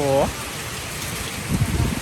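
Steady rain falls at night during a car wash, a dense continuous hiss throughout, with a brief voice near the start and soft low thumps toward the end.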